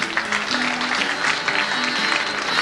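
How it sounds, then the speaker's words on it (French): Steady applause from an audience, dense clapping continuing throughout without a break. "Encore applaudissements, messieurs, dames."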